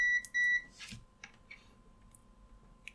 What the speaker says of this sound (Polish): Przełączymy sobie na diodę, będzie pikało.